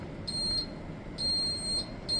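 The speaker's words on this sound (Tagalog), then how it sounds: "Meron sigurong fire alarm dito sa ano" An apartment fire alarm beeps: three short, piercing high tones repeated at a regular interval over a low background hum, fairly close and with no one speaking.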